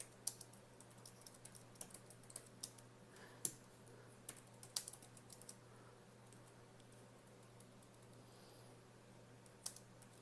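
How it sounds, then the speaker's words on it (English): Soft, irregular key clicks from typing on a ZeroChroma folio keyboard attached to an iPad, tapped at an angle; quiet and close, with scattered sharper clicks and pauses between bursts. "I'm typing at an angle here."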